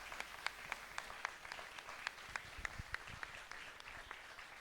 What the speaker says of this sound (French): on peut applaudir chaleureusement Guillaume et Raphaël